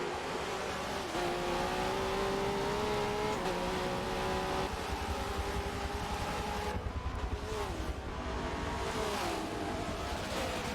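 V8 Supercars racing uphill at Road America, several engines roaring together with rising and falling pitch as they power up the climb, loud and continuous without a break.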